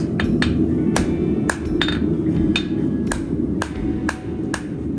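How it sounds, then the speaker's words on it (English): Sharp, ringing hammer blows on a steel anvil while a horseshoe is shaped at the heel, about a dozen strikes in an uneven rhythm over a steady low rumble of shop noise. "Drive that into the corner of the anvil"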